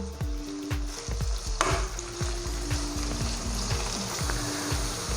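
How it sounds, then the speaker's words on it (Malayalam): Onions sautéing with salt in a pan over a low flame, a constant close crackling sizzle with repeated rhythmic soft knocks of a spoon stirring. "കുറച്ച് ഉപ്പ് ചേർത്ത് ഇതൊന്ന് നന്നായിട്ട് തന്നെ നമുക്ക് ചെറുതീയിലിട്ട് വഴറ്റിയെടുക്കാം"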